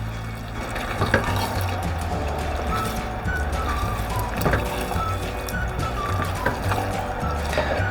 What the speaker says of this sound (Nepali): अझै थोरै पानी राखिदिउँ